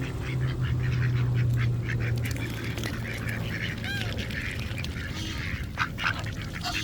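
Ducks being fed outdoors give scattered quacks and honks over a steady, dense bed of background noise, with no clear talking.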